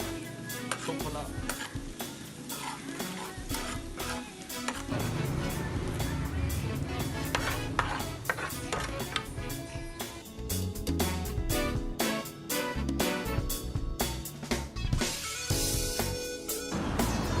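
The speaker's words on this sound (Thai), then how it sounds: "ขั้นตอนที่2เนาะก็คือคั่วกระเทียมก่อนเนาะ" Garlic stir-fried in a pan while preparing sweet liver with fragrant garlic, giving a continuous sizzle with repeated scraping and clinking of a utensil against the pan, steady and close, with a voice speaking over it at times.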